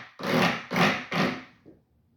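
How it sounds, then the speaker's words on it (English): Mexican fish-shaped wooden instrument scraped in three long rasping strokes, close and fairly loud, followed by a faint short scrape, with no talking. "This is literally a fish instrument they play in Mexico, and it sounds like this."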